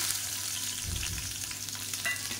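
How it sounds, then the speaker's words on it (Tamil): Chopped garlic sizzles steadily in hot sesame oil in a pan while a chutney is being made, a continuous close frying crackle with a brief stirring swell near the middle and no voices. "இப்போ எண்ணெய் நல்லா சூடாயிருச்சு. 1 கைப்பிடி அளவுக்கு பொடியாக நறுக்குனா பூண்டு சேர்த்துக்கலாம்."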